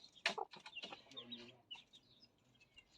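A rooster with his hens on a very hot day, giving a few sharp clucks and short calls up close at the start, then quieter scattered fowl sounds.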